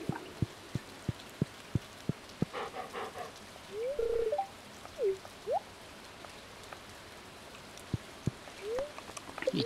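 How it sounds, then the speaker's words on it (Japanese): Rain sets in during the farming video game Stardew Valley: a steady patter of soft droplet taps with a few sharp plinks, faint and even throughout, without speech. "あ、雨だ。"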